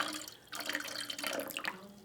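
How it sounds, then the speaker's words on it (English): Eight ounces of water poured from a pitcher splashes and trickles into a cup, a short, quiet pour with a light gurgling, close by. "Go ahead and add the 8 ounces of water to your first cup"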